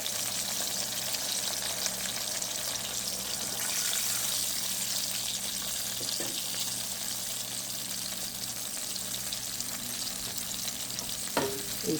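Chopped onion with a little garlic sautéing in a pan for a hilsa fish curry with kalmi greens, a steady loud sizzle with occasional stirring scrapes throughout, no voices.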